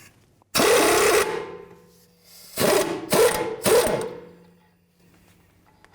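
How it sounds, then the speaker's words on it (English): An 18mm socket wrench works a rusty tie rod nut on an 11-15 Chevy Cruze front outer tie rod, giving one long buzzing ratchet run and then three shorter close bursts, loud and alone. "Take an 18mm socket, remove the nut."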